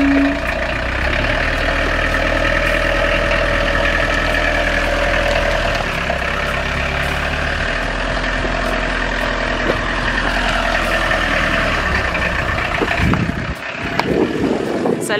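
An old camper van's engine runs steadily with a low, continuous rumble while the vehicle rolls along, wind buffeting the microphone, and a voice speaks briefly over it.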